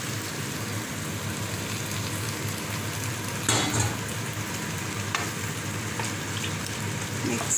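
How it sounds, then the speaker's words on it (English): Coconut milk poured into a simmering Sri Lankan prawn curry with drumstick leaves, giving a steady, close bubbling sizzle with a brief louder splash midway. "Now we're going to put the coconut milk."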